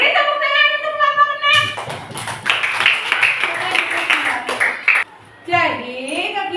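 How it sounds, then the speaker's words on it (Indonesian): Classroom of students clapping for a group, a burst of many hands lasting several seconds, with a teacher's voice speaking before and after the applause. "Beri tepuk tangan untuk kelompok"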